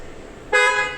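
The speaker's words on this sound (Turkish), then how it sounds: "Gördüğünüz gibi basıyor kornamız çok şükür." A car horn blares once, loud and close, holding steady for about half a second after a quiet start, on a car with 69,000 km.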